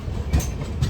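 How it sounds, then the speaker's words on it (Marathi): Aboard a Konkan Railway train rolling on after leaving Panvel, a low rumble carries two sharp wheel clacks over rail joints, heard from inside the carriage. "पनवेलवरनं सुटली आहे मित्रांनो आपली ट्रेन"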